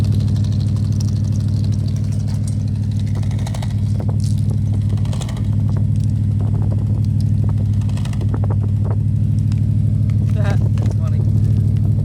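A car engine, with acorns found in its tailpipe, idles at a steady, loud, low hum throughout while people talk nearby.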